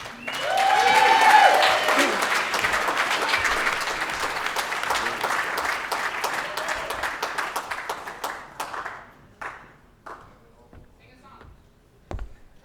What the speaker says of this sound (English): Everybody give a round of applause for David Sutton.